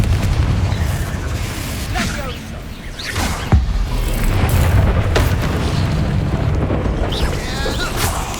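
Fiery spell blasts in the Hogwarts Legacy video game, a heavy boom near the start and another sharp burst midway, set amid continuous combat rumble, crackle and magical whooshes, with a voice calling out spell names.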